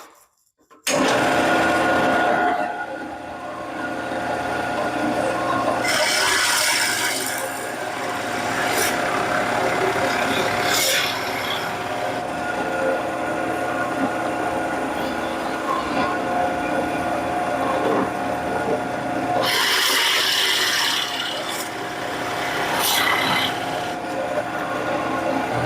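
A drill press bores holes into wood, set to a 3/8-inch depth stop, giving a continuous motor whine with several rough grinding bursts as the bit cuts, close and fairly loud.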